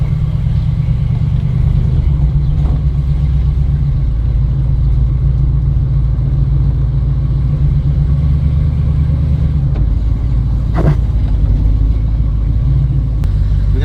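Engine of a 1970 Fastback on a test drive, a deep continuous low rumble heard from inside the car, steady and loud with a few faint knocks and clicks.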